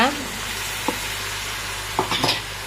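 Cut brinjal (eggplant) pieces fry in hot oil in a pan for a Tamil kathirikkai poriyal, a steady close sizzle with a few short scraping knocks of stirring near the end and no talk.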